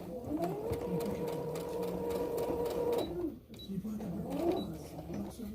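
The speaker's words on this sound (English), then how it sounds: "all you're going to do is sew along that line that you just made, both of them." A sewing machine stitches a fabric mask, running in a steady whirring burst for about three seconds, then a short stop and a brief second run, with faint background sounds.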